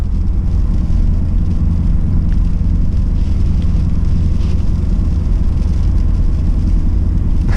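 A Camaro SS 1LE's engine rumbles steadily in second gear, driving through snow on Continental DWS 06 tires, a loud, constant low drone with road and wind noise and no talking.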